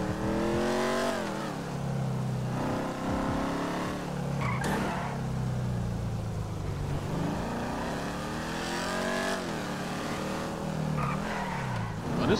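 A car in GTA 5 revs hard and skids, the engine climbing and falling through repeated gear sweeps with tire squeal, loud and continuous over several seconds.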